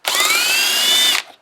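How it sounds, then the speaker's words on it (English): An impact wrench spins for about one second on a 10mm fastener while removing a clip from a 2006-2015 Lexus IS350 during a cold air intake install, giving a loud, close, high-pitched whir that starts and stops sharply. "I'm just going to use my impact to make this plain and simple."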